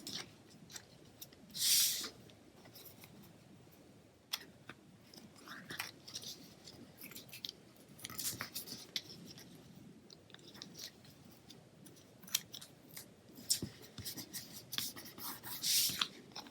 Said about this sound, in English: I have my basic black satin ribbon. Just going to cut that.